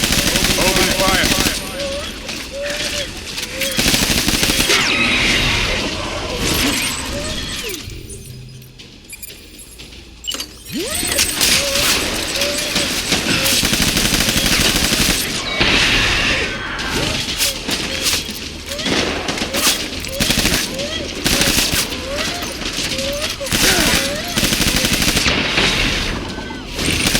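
Gunfire in the video game Death Stranding, with dense bursts of rapid shots, crashes and booms layered over loud orchestral battle music, near and sustained through most of the stretch, briefly dropping away in the middle.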